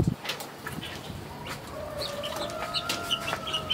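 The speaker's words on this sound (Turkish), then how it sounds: "Horoz var içeride bir tane." A rooster at a zoo gives a drawn-out crow amid soft clucking, fairly faint and somewhat distant, with light background noise.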